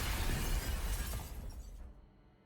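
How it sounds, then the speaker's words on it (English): A crystal smashes on the ground in Nikke: Goddess of Victory, a loud bright shattering burst with scattering fragments that fades out over about two seconds. "Behemoth slams the crystal on the ground, sending the shattering crystal fragments flying everywhere"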